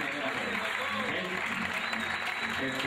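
An audience at a live show by Grupo Talento de San Francisco claps in steady, dense applause throughout, with a voice speaking over it.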